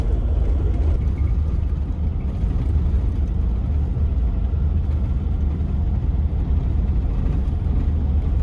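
A car driving on a badly corrugated desert road, a loud constant low rumble and road roar with steady vibration and no letup, close inside the cabin.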